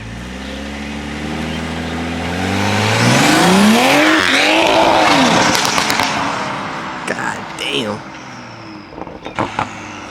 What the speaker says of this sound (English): That car sounds so good.